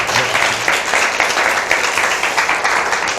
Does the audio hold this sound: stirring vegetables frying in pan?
no